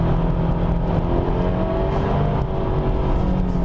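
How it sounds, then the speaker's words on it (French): An Abarth 124 Spider 1.4 MultiAir drives hard on a slippery track, its engine and exhaust a loud, continuous droning growl heard from inside the car. "Puis surtout on a cette sonorité, hein, avec l'échappement, franchement c'est génial."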